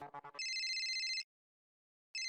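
A mobile phone rings during an indoor political workers' meeting, with a few quick electronic beeps followed by a steady, bright synthetic ring tone that stops, pauses, then starts again.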